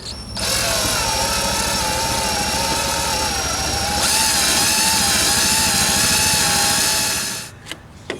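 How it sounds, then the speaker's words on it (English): A power drill bores out a broken, rusted bolt with a stepped-up bit, its loud, steady whine running unbroken for about seven seconds before cutting off, followed by a couple of small knocks. "I'm going to step the drill bit up one more level to put in the next biggest one"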